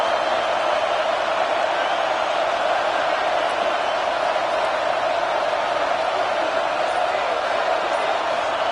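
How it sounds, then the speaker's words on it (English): Loud, steady roar of a football stadium crowd trying to rattle the opposing offense, a dense unbroken wash of noise holding level from start to finish with no clear talk on top. "Listen to this crowd just shaking the girders of this place, trying to help their defense."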